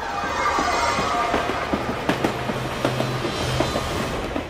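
A passenger train running on the tracks, a steady rumbling roar with rhythmic clacks of wheels over rail joints, continuous and fairly loud throughout.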